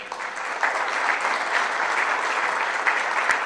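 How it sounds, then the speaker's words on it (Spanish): Sustained audience applause at a Spanish-language engineering conference on open source, a steady dense wash of many hands clapping filling the whole stretch, moderately loud and without talk. "Por favor, un fuerte aplauso para él."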